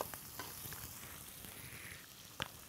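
Onion, garlic and mushrooms frying in a pan, a quiet, continuous sizzle with light crackles and a brief scrape of stirring near the end, with no voices.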